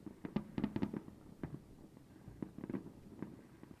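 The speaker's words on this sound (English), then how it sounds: "The fireworks are my favourite thing ever. So many pretty colours." Fireworks effect from a read-aloud children's picture book, a run of sharp crackling pops and bangs in two quick clusters, moderately loud and alone without talk.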